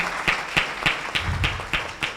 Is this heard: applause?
yes